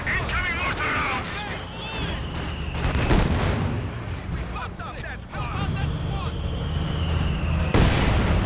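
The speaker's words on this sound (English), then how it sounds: "Incoming mortar rounds!" Incoming mortar rounds exploding in Company of Heroes 2, several loud booming blasts over continuous battlefield noise, with voices shouting orders amid the fire.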